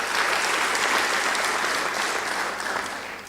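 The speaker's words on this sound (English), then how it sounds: "It's only courteous if at all you give them a round of applause." Audience applause at a high-level African civil society conference on AML/CFT in Botswana, a dense, steady round of clapping filling the whole stretch and tapering slightly toward the end, with no talk over it.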